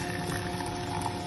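Boiling water from a kettle streams into a pan of gravy granules with a steady, close, bubbling pour that lasts about a second.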